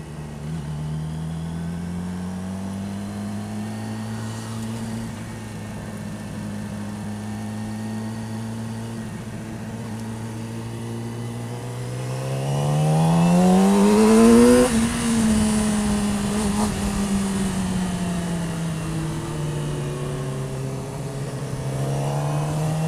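A car engine idles steadily, then revs up sharply to a loud peak and settles back, a continuous close-up engine drone with no talk over it.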